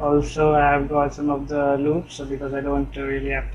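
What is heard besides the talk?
No everyday noise stands out behind the speech.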